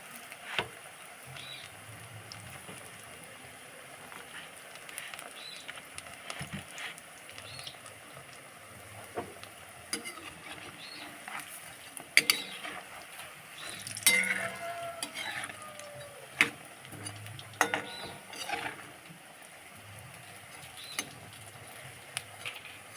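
Drumstick flower pakoras frying in hot oil: a faint, steady crackle runs throughout, with occasional louder pops and scrapes as the pieces are stirred, and no voices.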